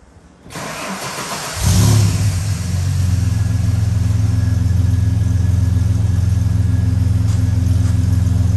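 A turbocharged Ford EF Falcon engine, just back together after differential work, cranks and starts, then settles into a loud, steady close-up idle.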